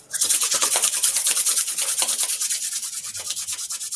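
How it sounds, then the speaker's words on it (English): Hands rubbing together gently during a qigong session, a close, steady swishing friction in quick regular strokes that runs throughout, loud and alone with no voices. "we can rub our hands together gently"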